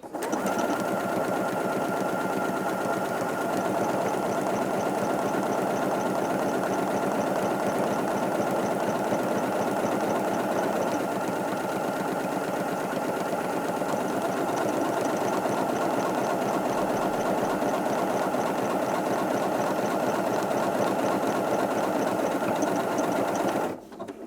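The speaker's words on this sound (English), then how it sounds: "So I'm going to go ahead now and sew the buttonhole." A Janome Atelier 7 Anniversary Edition sewing machine stitches a buttonhole through thick denim, a steady close mechanical whir with rapid rhythmic needle pulses running evenly for the whole stretch, no voices.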